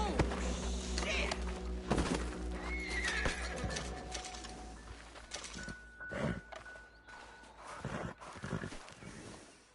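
Horse in Red Dead Redemption 2 whinnying loudly several times, mixed with clip-clop hooves, thuds and other game noises, with no clear talk over it.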